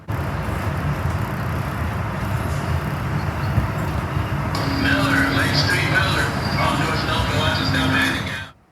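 A South Shore Line train pulls into the Gary station, with a steady loud rail rumble and rattle that gives way to brake squeals and higher metallic noise over a sustained tone, then fades abruptly.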